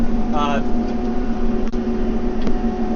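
A TYM tractor's hydrostatic transmission whines steadily while hauling a loaded dump trailer uphill, with a low engine drone running continuously and a brief higher warbling tone near the start.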